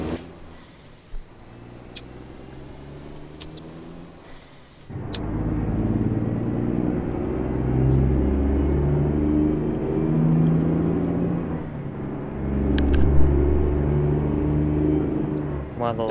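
A truck with an MX-11 engine in American Truck Simulator rumbles steadily after a quiet start, its low engine drone rising and falling with revs while faint clicks sound on top.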